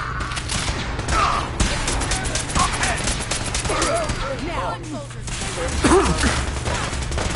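Gunfire in the video game Fallout 4: rapid, dense volleys of shots crackle continuously over a noisy combat background, while characters shout over the shooting.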